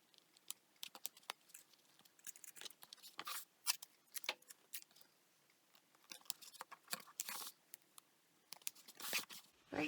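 Adhesive tape is cut and applied to fabric in an embroidery hoop, with quiet close crinkling, snips and sharp tearing rips scattered irregularly over faint handling noise.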